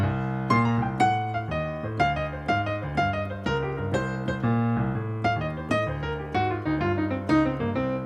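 Piano playing a quick run of jazz triplets over a low walking bass line, steady rhythmic phrases ringing close and clear.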